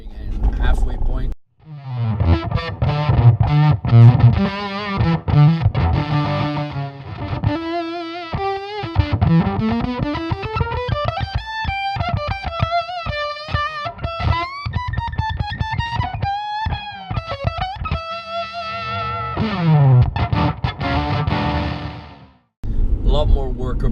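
Electric guitar run through a Fulltone Octafuzz pedal, playing loud, thick distorted fuzz notes and slides with sustained octave-rich tones, steady and close, with brief pauses near the start and end.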